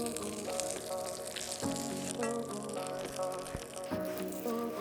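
Butter sizzling in a pan while deer heart cooks outdoors in the wild, a steady close crackling hiss with faint tonal background sounds running throughout.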